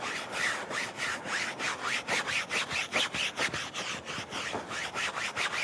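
A soft long-bristle brush scrubbing a convertible car top, rhythmic back-and-forth strokes, loud and close, about two per second, with no talking.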